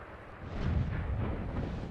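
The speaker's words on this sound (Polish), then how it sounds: "I jest kolejny strzał." A tank cannon fires in the World of Tanks video game, a deep muffled boom that rolls out and rumbles on for about a second before slowly fading.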